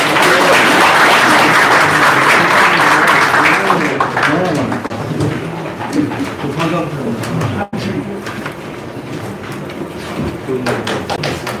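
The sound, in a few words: audience applause welcoming village head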